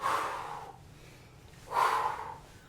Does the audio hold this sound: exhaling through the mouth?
yes